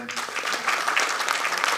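A crowd claps in a burst of dense, continuous applause, moderately loud and close, at a film press meet.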